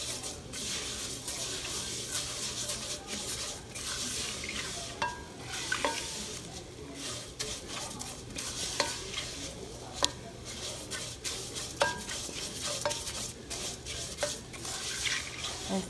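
Rice frying and browning in a skillet: a continuous soft sizzle with regular scraping strokes of a spoon or spatula pushing the grains around the pan, close and steady throughout.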